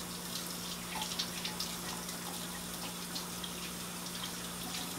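Tap water runs steadily into a kitchen sink while celery stalks are rinsed for a green smoothie, a constant close gush with a low hum underneath and no talking.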